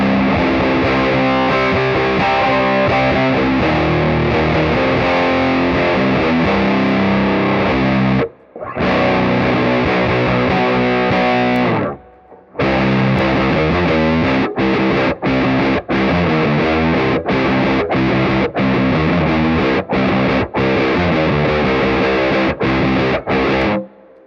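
High-gain distorted electric guitar run through an effects pedal at full blend, loud sustained chords and riffs with a thick processed tone, broken by short abrupt stops and a brief pause midway.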